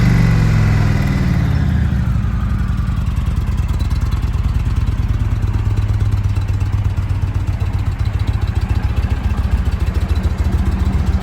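A 2019 Indian Chieftain Classic motorcycle with stock exhaust idles steadily after a brief rev at the start, a low, even rumble that stays moderately loud and unbroken.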